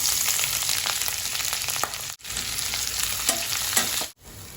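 Chopped onions and green chilies sauté in a hot pan, a loud continuous sizzle with stirring scrapes, broken by two short pauses.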